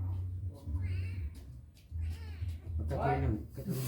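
A cat gives several short meows in a behind-the-scenes setting, scattered between people talking in Indonesian, each cry fairly close and clear.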